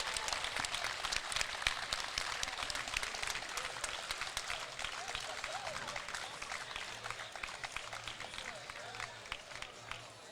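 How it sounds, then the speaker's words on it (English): Crowd applause and cheering in a virtual reality boxing game after a fight, a dense, steady wash of clapping that continues at a fairly even level throughout. "Round of applause from the crowd for this warrior."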